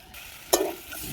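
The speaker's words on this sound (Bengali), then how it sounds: "চিনি আর একটু সবজি মশলা, ব্যাস নাড়িয়ে নেব" Spiced jackfruit vegetable curry stirred in a pan, with a soft steady sizzle and one sharp scrape of the spoon partway through, close and alone.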